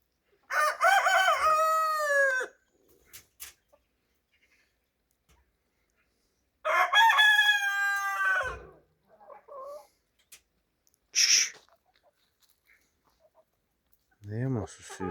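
A young rooster, bought as a pullet, crows twice loudly and close, each call a long wavering cock-a-doodle-doo several seconds apart, followed by a brief squawk and a short low sound at the end.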